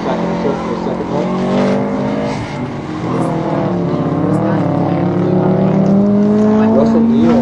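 A race car runs an autocross course at PIR, its engine drone steady and loud throughout, with the pitch rising toward the end as it accelerates, under faint announcer talk.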